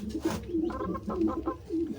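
Domestic pigeons coo indoors by a nest box, several soft, low throaty coos repeating in an uneven rhythm at close range with faint room noise between them.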